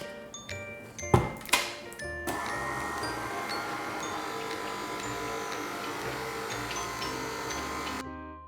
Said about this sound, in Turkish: bu ayaklı mikserin en düşük ayarında her şey bir hamur haline gelene kadar çırpıyorum